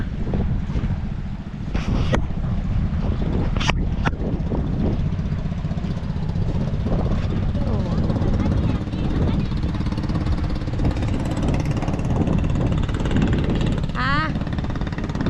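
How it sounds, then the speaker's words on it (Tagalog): A steady motor drone of a boat going by on a river, with wind rumbling on the microphone and a few voices now and then. "Yan na, may dumadaang bangka"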